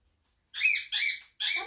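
A pet bird named Reepy Cheep gives three loud, close squawking calls in a row, each about a third of a second long, with short gaps between them and no talking.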